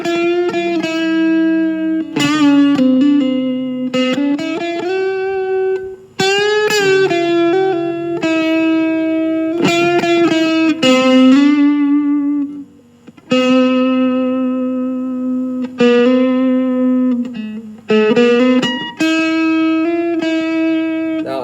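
A distorted electric guitar runs through a pentatonic scale again, picking note sequences and holding the landing notes with sustain, loud and up front, a few short gaps breaking the phrases.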